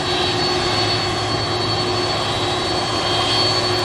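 An Atlas Air Boeing 747 at Manchester Airport gives off a steady, loud jet engine roar with a high whine riding on top, constant throughout with no voices.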